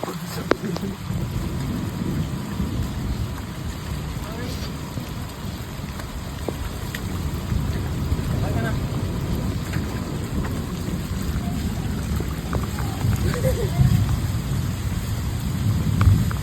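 Heavy rain pours down steadily throughout, loud and close, with low rumbling beneath and a few scattered drips.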